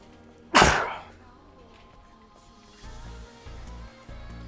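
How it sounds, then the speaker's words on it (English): A single loud, wet sneeze bursts out close to the mic, its noisy blast trailing off over about half a second, followed by faint low rumbling sounds. "Gonna sneeze."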